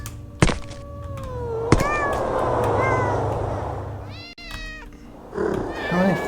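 Several cats meow in Thirty Flights of Loving, a PC video game. Drawn-out rising and falling meows sound loud and close, overlapping one another above a steady low background hum, with a sharp thunk partway through.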